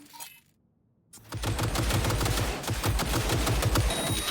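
Rapid machine gun fire from a turret in a video game, a dense continuous rattling burst after a brief quiet start, loud and unbroken with no talk.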